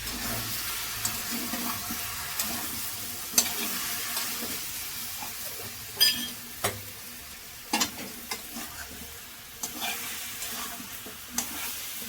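Ground capsicum paste frying with cauliflower florets in a pan, a steady loud sizzle broken by scraping stirs and occasional clacks of a spoon, with no voices.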